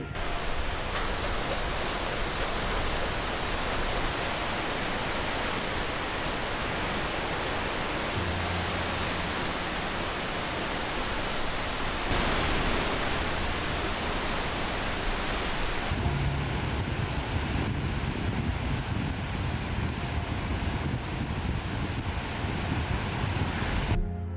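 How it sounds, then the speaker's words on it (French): Skógafoss waterfall in Iceland thunders as a continuous, loud broadband roar of falling water and heavy spray, steady and close throughout with shifting wind buffeting, no voices present. "Cette cascade dégage une poussière d'eau impressionnante."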